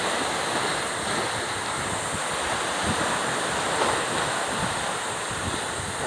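Rough sea waves surge continuously through stormy, typhoon weather, a dense, steady roar of surf with wind buffeting the microphone throughout, no voices present.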